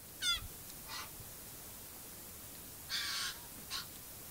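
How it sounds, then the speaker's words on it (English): White-winged choughs, small Australian corvids in a communal flock, give a few short harsh calls in separate bursts, two close together early and two more later, with quiet pauses between. "Here we have the white-winged chuffs come for a bit of a visit"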